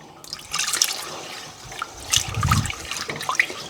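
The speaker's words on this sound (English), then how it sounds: "we're going to gradually add our milk and not spill it all over the place" Milk is poured gradually into a pot on the stove for a coconut cream pie filling, making a continuous liquid splashing and trickling that swells briefly midway.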